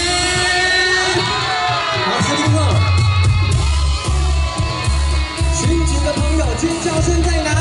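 Dense crowd at a Taiwanese-language song concert at a temple in Hsinchu, cheering, whooping and clapping steadily to welcome a headlining singer, with bursts of shouts and a low music bed underneath.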